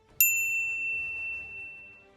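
A single bright notification-bell ding strikes sharply and then rings on with a long, slowly fading shimmer over a quiet background.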